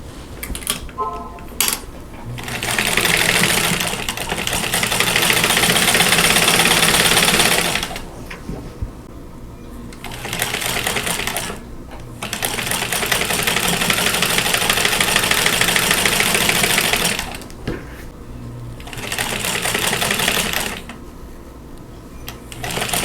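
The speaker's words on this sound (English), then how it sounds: "so I'm just going to sew everything together, and this block will be done" A sewing machine stitches quilt block pieces together in long, loud, steady whirring runs broken by short stops, close by with no talk over the stitching.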